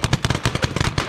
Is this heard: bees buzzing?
no